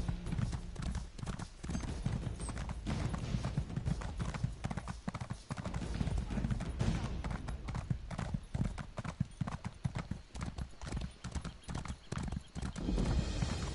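Steady rhythmic clip-clop of a horse's hooves at a trot in a video game, continuous and close, with a rumbling low background throughout.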